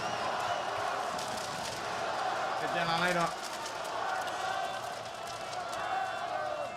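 Arena crowd at a Counter-Strike esports match cheering for Falcons against Spirit, a sustained broad roar heard under a caster's voice, swelling briefly in the middle before settling back to a steady din.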